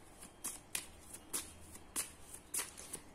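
Tarot cards are shuffled and drawn by hand, a series of quick, crisp riffling and slapping bursts repeating roughly every half second, close and fairly quiet.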